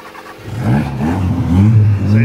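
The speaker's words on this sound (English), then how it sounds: "So if you keep the revs up, it keeps running," A car engine is revved repeatedly to keep it from stalling, loud and close, its pitch climbing and falling in uneven surges, with a voice briefly over it.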